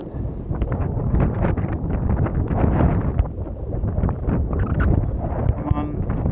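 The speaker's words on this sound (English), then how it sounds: "It is pretty windy." Strong wind buffets the microphone on a coast at Sotavento, Fuerteventura, in the Canary Islands, a loud, rough, continuous roar with gusty surges, while a voice talks over it.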